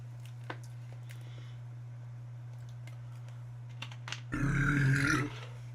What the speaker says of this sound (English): I drink this sparkling, like, carbonated water, so it makes me burp